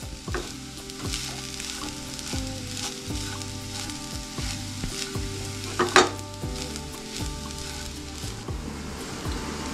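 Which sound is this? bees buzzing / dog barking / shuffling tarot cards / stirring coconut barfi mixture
stirring coconut barfi mixture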